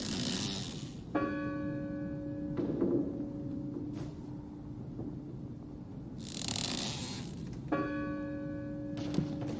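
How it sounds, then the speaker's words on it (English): A church bell in the horror game Draugen tolls twice, each ringing strike leaving a long humming decay over quiet ambient wind, with a faint thud between the peals. "That bell. Stop it."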